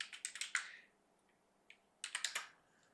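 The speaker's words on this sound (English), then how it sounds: "And I'm typing," Computer keyboard keys click close by in two quick bursts of typing, separated by a short pause.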